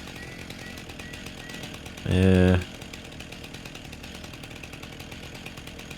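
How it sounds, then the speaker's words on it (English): A weed trimmer in Farming Simulator 19 starts up in one short, loud, buzzing burst of about half a second, a droning motor tone over steady background noise, with no talk during it. "We'll grab this weed trimmer here."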